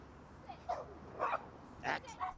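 A few short, sharp dog barks and yips sound at moderate distance in an outdoor setting as a cyclist rides past, three or four bursts spread across a couple of seconds.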